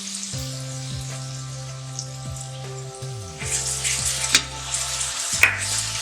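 Soft sizzling and crackling of onions, garam masala, coriander powder and garlic frying in a pan, growing livelier partway through with a few sharp clinks, beneath a steady low hum.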